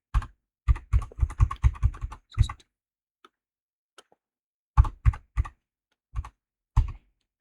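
Typing on a computer keyboard: a quick run of close, crisp key clicks, a pause with a couple of faint taps, then a few more spaced keystrokes, with no talk.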